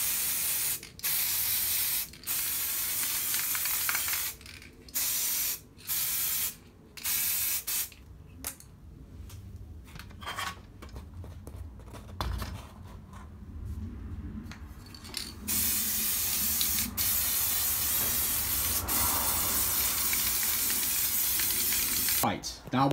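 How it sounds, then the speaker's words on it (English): Satin varnish is sprayed from an aerosol can onto Nerf pulse rifle parts in repeated close hissing bursts, some short and clipped, others long and sustained, with brief quiet handling gaps between them. "I highly, highly recommend sealing it with the satin varnish, which is what I'm doing right now"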